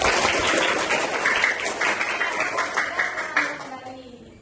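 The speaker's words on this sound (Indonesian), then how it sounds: "Tepuk tangan buat teman-teman" Schoolchildren in a classroom lesson applaud their classmates, a loud burst of many small hands clapping that thins out and fades toward the end.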